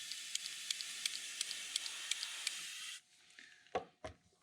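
Custom-painting airbrush with its nozzle cap off sprays very thin paint for a stippling effect, a soft continuous hiss broken by rapid rhythmic spits as the trigger is worked, then stopping into faint clicks and handling.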